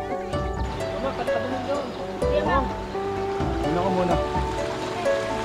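River water rushes steadily around people wading, a continuous close wash under several voices talking and calling to each other.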